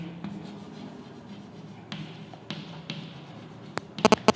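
Marker or chalk strokes sound on a board as a teacher writes during a biology lesson on cells, soft scratchy scrapes with a few sharp taps near the end.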